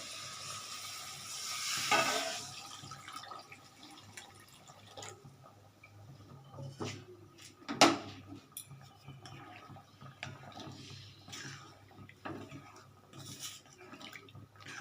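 Water poured into a hot pan of suji upma on a gas stove gives a soft sizzle and bubbling with scattered clinks and stirring, one louder hiss burst early and a sharp clatter midway.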